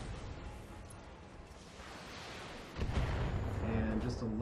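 Missiles launching in the Battletech PC game, heard as rumbling artillery-like bursts that swell sharply louder about two-thirds through and continue as a dense barrage, with a voice speaking over it.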